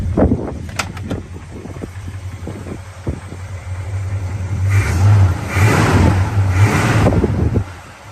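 A 1979 Chevrolet Camaro engine with dual exhaust revs up and settles in a few rising surges, loud and close at an outdoor car show, with wind buffeting the microphone.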